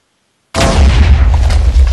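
A cannon booms in the FreeMine video game, a sudden loud blast after half a second of silence, then a dense rumbling, crackling barrage that stays loud to the end as two cannons fire together.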